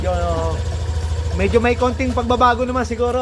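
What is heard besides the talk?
Yamaha Aerox v2 scooter engine idling after overhaul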